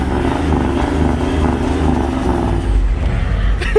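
A steady, loud engine rumble from a 1983 GMC Jimmy fills the clip, a low continuous drone close by with slight swells as it revs, ending with a brief clatter.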